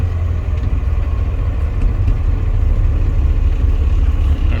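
A Douglas TBL280 towbarless pushback tractor drives along, its engine giving a steady, loud, low rumble with no break.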